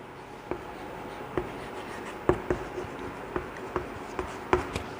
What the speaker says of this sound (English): Here again I will write